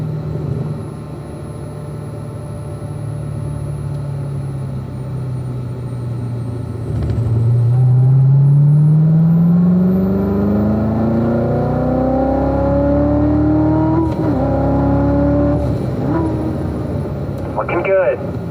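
Race car engine on the track at Spring Mountain, a steady loud drone that drops as the car slows, then swells and climbs in pitch through acceleration, with a couple of quick shifts near the end and talk over it.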